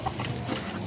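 Chickens in a small backyard laying flock of about 22 hens, clucking close by at feeding time, a steady busy murmur of soft clucks with no talk over it.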